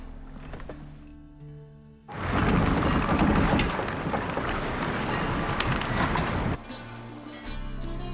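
A sailing ship getting under way in the fantasy game The Witcher 3, a sudden loud rush of wind, creaking and water swelling up and roaring steadily for several seconds before dropping back to quieter ambience and music.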